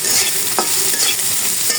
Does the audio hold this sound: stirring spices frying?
yes